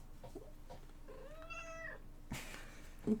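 A kitten gives a single drawn-out meow that rises and falls, fairly close and clear, followed by a brief rustling thump; no one speaks.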